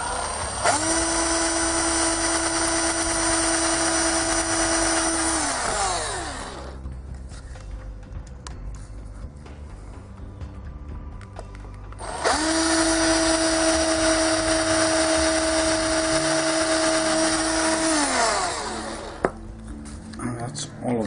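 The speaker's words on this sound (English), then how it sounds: "that's all of the pilot holes drilled" A power drill bores pilot holes in two long bursts, each a steady high whine that ramps up, holds for several seconds and winds down, with a quieter pause of faint rustling between them.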